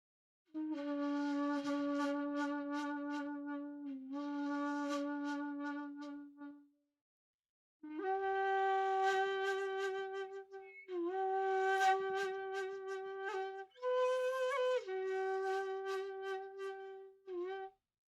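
Breathy shakuhachi bamboo flute plays sustained, wavering tones in a slow phrase in the Hon-choshi mode, with a pause midway before a higher, more ornamented passage.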